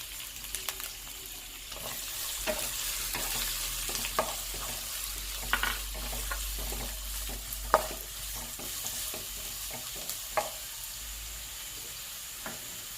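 One large chopped onion fries in a pan for a biryani. A steady close sizzle runs throughout, punctuated by regular sharp taps and scrapes of a spoon stirring against the pan, with no talking.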